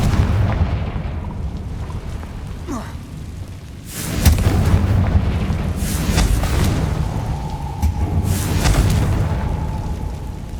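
Confringo fire spells bursting in Hogwarts Legacy, a few loud blasts with crackling debris against a busy game backdrop, one near 4 seconds and more later, with faint talk underneath.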